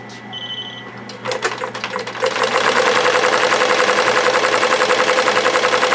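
A commercial embroidery machine stitching a design onto a cap visor: a rapid, steady mechanical chatter that starts up and builds into a continuous whirring rattle, close and loud, with no talking.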